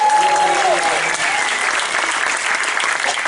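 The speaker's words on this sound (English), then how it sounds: "Let's give him a round of applause." A media briefing audience claps for a show director at a Halloween Horror Nights event: steady applause across the whole stretch, with a short sung or tonal voice fading out at the start.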